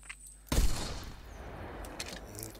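A single loud hunting rifle shot in theHunter Classic, a sharp close blast followed by a long rolling echo that fades over two seconds, with no talking.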